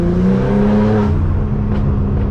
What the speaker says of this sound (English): A lot of turbo sounds coming from this car.